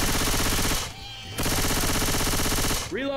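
Submachine gun fire in a Star Wars video game, two loud sustained automatic bursts split by a brief pause, with a short rising mechanical whine at the end.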